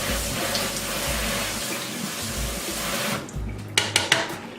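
Tap water runs steadily into a bowl while rice is rinsed, a continuous close splashing flow that breaks off near the end into a few sharp knocks from the bowl, with no talk.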